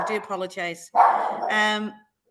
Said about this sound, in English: my dog just seems to be going mad at the wrong time